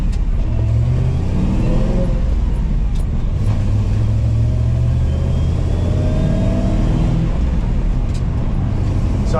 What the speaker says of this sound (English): There's a first gear start